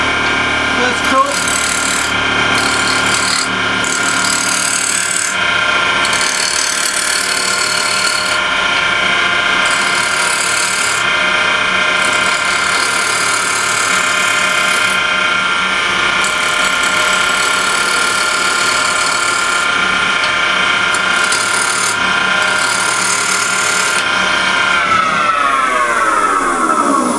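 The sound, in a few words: roughing gouge turning wood on a woodlathe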